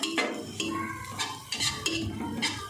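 Semolina halwa being stirred and roasted in a pan, a spoon scraping and clinking against the metal in repeated strokes, close and fairly loud, with no voices.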